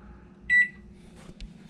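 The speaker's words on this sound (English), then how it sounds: "We got a microwave with 17 seconds left on it." A truck-cab microwave oven gives one short, clear electronic beep amid a quiet hum, followed by faint clicks.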